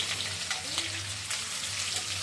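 Garlic sizzles in hot oil in a home kitchen, a steady broadband frying hiss with faint crackles that continues evenly throughout, close to the pan with a low background hum.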